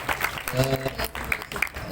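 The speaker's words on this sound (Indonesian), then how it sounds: "Tepuk tangan untuk paslon nomor 3 ya." Students at a junior high school student council candidate debate in Indonesia clapping for a candidate pair, a short burst of applause mixed with voices and chatter.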